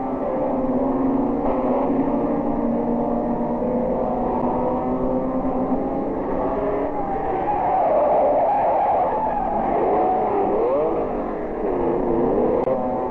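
BMW race cars brake hard into the first corner at Zandvoort, engines droning in layered tones while tyres squeal and skid in wavering sweeps midway, loud and sustained.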